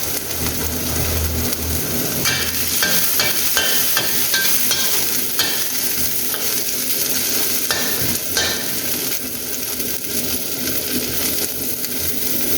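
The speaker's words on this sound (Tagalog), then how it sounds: "brown brownin muna natin yung bawang para lumabas talaga yung aroma" Chicken and garlic frying in a pan, a loud, close, steady sizzle with scraping stirring strokes coming and going throughout, no talking.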